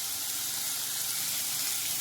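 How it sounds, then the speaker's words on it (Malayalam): Sliced onions fry in a pan, browning and turning crisp, with a steady, even sizzle that holds close and fairly loud throughout. "ഉള്ളി ഇപ്പം നല്ല മൊരിഞ്ഞ് നല്ല കളറായി വന്നിട്ടുണ്ട്"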